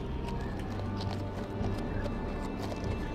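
Video game horse hoofbeats clip-clop steadily at a trotting pace over a busy background wash, with faint voices underneath.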